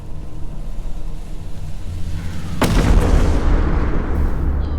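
Bombs exploding in a video game, a sudden sharp blast that swells into a loud, heavy rumbling roar over constant background noise.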